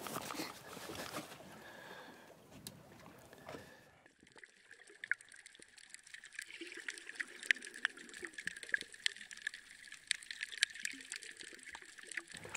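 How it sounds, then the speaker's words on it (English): Ocean waves heard underwater through listening equipment: a soft, steady wash of water that shifts partway into a thinner hiss with faint crackles and ticks, quiet and distant. "Not yet, just ocean. Waves."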